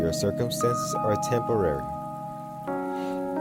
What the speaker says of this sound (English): just like as you hear in my track, the rain in the background